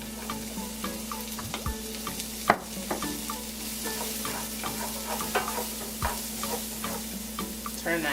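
Onions hitting a pan of hot garlic sizzle loudly and steadily, with scattered clicks and scraping from stirring over the crackle.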